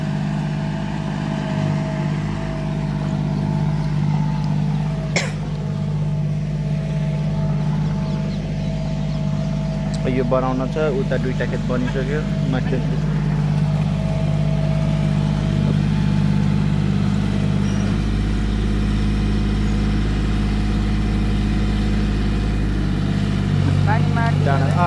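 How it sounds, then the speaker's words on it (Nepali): A tractor drags a leveling harrow through soil in a wet paddy field, its engine droning steadily and loudly throughout, with a person talking over it and occasional clucks from nearby chickens. "माटो तान्दैछ ट्र्याक्टरले, बाबा हेँगामा चढ्दै"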